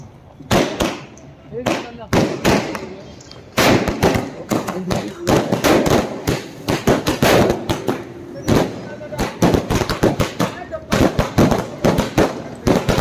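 Firecrackers go off one after another during a village celebration in Shergarh Basti, a long string of loud, close, sharp bangs and crackles with voices talking between them.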